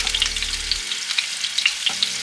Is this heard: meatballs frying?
yes